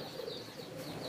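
Pigeons cooing at their nest, soft low coos repeating close by over a faint background hiss.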